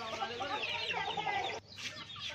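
Hens clucking on a terrace poultry farm, laying birds about six months old, a dense busy chatter of several birds filling the clip with a brief dip near the end.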